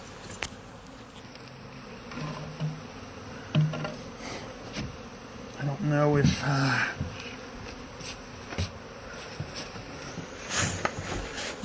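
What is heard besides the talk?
swarming honeybees buzzing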